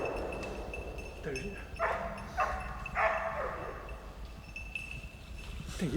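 A hunting dog barks several times in quick bursts during a wild boar drive, at mid distance over steady outdoor background noise.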